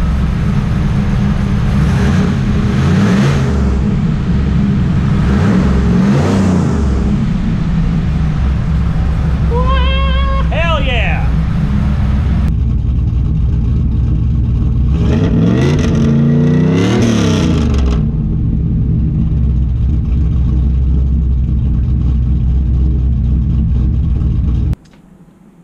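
Pontiac Trans Am, a third-generation car, with its engine idling loudly and then revving up in several rising bursts before settling, close to the microphone.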